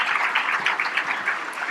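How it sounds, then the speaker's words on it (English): An audience applauds the candidates at a gubernatorial debate with steady, dense clapping throughout. "now let's give a round of applause to our candidates."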